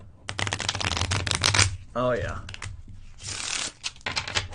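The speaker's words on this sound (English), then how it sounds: "That's the first time I've shuffled a deck of cards in probably a few years." A deck of playing cards being shuffled, with two quick riffling bursts separated by a short pause. A voice speaks briefly between them.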